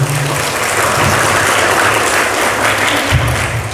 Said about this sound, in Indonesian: tepuk tangan untuk Bapak ini